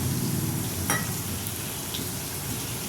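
Masala frying in a pan for paneer bhurji, with water added, giving a quiet, steady sizzle and hiss and one brief splash partway through.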